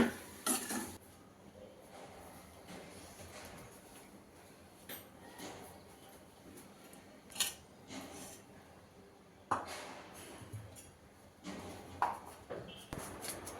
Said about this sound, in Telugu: పచ్చడి అయితే చల్లారిపోయింది ఇప్పుడైతే నిమ్మరసం అయితే కలుపుతున్నాను